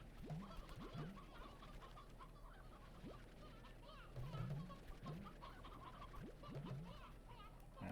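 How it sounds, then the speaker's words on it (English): Hens cluck in the Slime Rancher video game, with repeated short clucks scattered through the clip over a low steady background hum, fairly faint. "just kind of always gather some hens every time I come in here"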